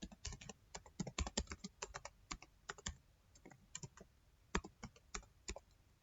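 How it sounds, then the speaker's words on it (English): Quiet, close keystrokes on a computer keyboard as a username is entered, irregular taps in short flurries separated by small gaps, no speech. "So just type your username or email address."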